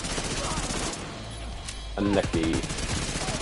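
Dense bursts of LMG machine gun fire in The Division 2 during a competitive match, loud and continuous across the clip, with someone briefly speaking over the shooting.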